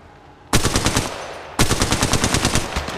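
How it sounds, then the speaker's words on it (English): Video game machine gun fire in two loud, rapid bursts, each a fast rattling string of shots, the first starting after a brief quiet moment and the second following about a second later. "Listen up, I'm getting shot at."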